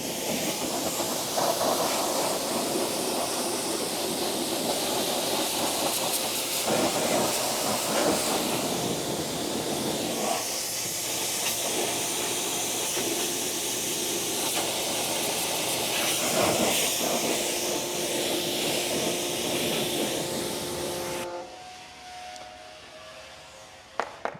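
A water spray rinses cleaner off a car wheel rim, a steady, loud broadband hiss that runs almost continuously before cutting off abruptly near the end.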